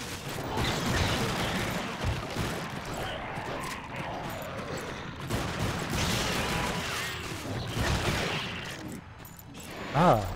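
Rapid-fire weapon shots from a PlayStation demo game, a dense busy stretch of shooting and mechanical clatter with occasional voices mixed in, fairly steady in loudness throughout.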